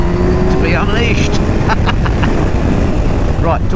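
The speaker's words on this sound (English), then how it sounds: "She sounds really nice with this four-cylinder engine." Kawasaki Ninja 1000 SX four-cylinder engine running loud and steady on the road, a constant rumble with wind noise, while a rider talks over it.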